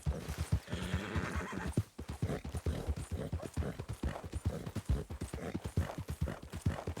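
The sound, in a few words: horse whinnying and hooves in video game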